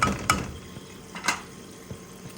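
Beef curry with beans being stirred in a pan on the stove: a few sharp metal clinks of the spoon against the pan and soft, quiet scraping between them, with no talk.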